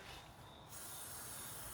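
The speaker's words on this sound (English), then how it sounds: "Just gonna spray the inside of this guy." Rust penetrant sprays from an aerosol can onto the inside of a car's rear suspension spring, first a brief hiss and then a steady, close, fairly quiet spray with no talk.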